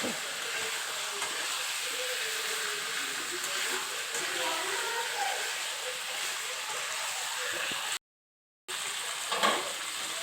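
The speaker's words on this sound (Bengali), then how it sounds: "সবার প্রথম একটু কষিয়ে নেব যখন তেল ছেড়ে যাবে তখনই জল দেবো" Chicken sautéing in oil in a pan, a steady close hiss and sizzle with faint stirring scrapes throughout, briefly cutting out near the end.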